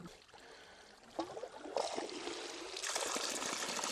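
Water trickling and pouring through a battery-powered sluice in a seasonal stream, a faint, steady wash that grows fuller and louder toward the end.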